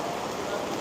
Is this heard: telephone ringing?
no